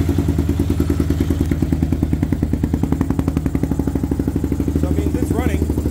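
A 2022 Kawasaki KLR650 motorcycle engine runs close and loud, a steady, evenly pulsing thump with a rattling mechanical edge throughout.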